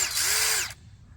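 A power drill spins fast with a rising then falling whine while driving bolts during a brake and rotor job on a 2008 Hyundai Santa Fe, one loud burst under a second long before it cuts off.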